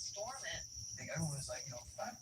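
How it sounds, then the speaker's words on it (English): A constant high, shrill insect drone like cicadas hums steadily through the clip while a person talks over it nearby. "Cicadas are loud"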